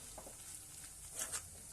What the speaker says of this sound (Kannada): ಅರಿಶಿಣದ ಪುಡಿ ಹಾಕೊಂಡು ಈ ತರ ಫ್ರೈ ಮಾಡ್ಕೋಬೇಕು ಫ್ರೆಂಡ್ಸ್